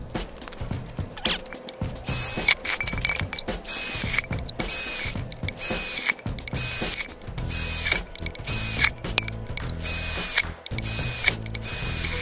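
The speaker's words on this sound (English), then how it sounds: "Drilling through stainless" A power drill whirs and grinds through stainless steel in repeated bursts, loud and close, with brief pauses and rattling between runs.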